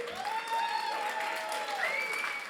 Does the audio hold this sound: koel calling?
no